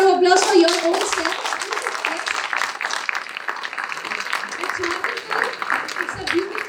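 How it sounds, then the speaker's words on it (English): An audience at a morning talk session claps together in a dense, steady round of applause, fairly close and sustained for several seconds, with a brief voice heard near the start. "can we please have a huge round of applause for your own self?"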